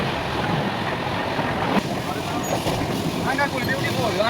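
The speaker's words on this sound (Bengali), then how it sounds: "130 স্পিডের ট্রেন চলছে" The 12839 Howrah–Chennai Mail running at around 130 km/h beside Chilka Lake, a continuous rumbling roar from inside the train with a voice talking over it.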